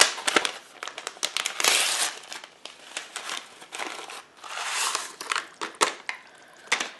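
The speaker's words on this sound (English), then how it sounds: "To that I am going to add my 2 envelopes of onion soup mix." Paper envelopes of onion soup mix being torn open and crumpled, with close, irregular crinkling and rustling bursts throughout, no voices.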